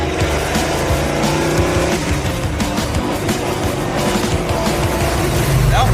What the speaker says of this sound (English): This may be the fastest this car's ever gone.